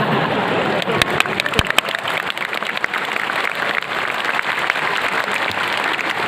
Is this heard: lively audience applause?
yes